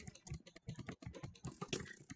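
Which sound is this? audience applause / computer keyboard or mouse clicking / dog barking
computer keyboard or mouse clicking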